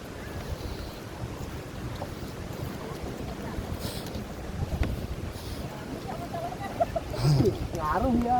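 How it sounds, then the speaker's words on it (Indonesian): Steady wind roars and buffets across a 370 m suspension bridge, loud and continuous. It swells slightly near the end, and people's voices are faintly audible beneath it. "Wah, ada angin. Ada angin ngaruh banget."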